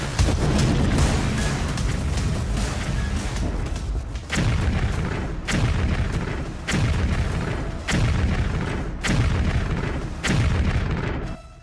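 Loud, repeated explosions from a large-scale Russian aerial attack on Ukraine in wartime, a sustained rumbling blast followed by about six heavy booms at roughly one-second intervals, with no voices.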